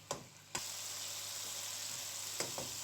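Tomatoes frying in a pan for dhaba-style bhindi masala give a steady, soft sizzle throughout, broken by a few light utensil clicks.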